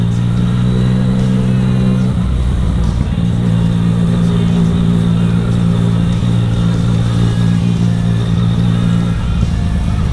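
Yamaha MT-09 three-cylinder crossplane motorcycle engine revving hard and steadily at close range, a loud continuous rumbling drone with a brief dip in pitch midway before climbing back, with no talking.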